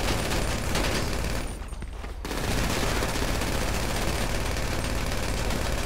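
Continuous heavy automatic gunfire from several weapons blazes in a Grand Theft Auto V heist shootout, loud and dense, dropping briefly for a moment before the barrage resumes, with no talking.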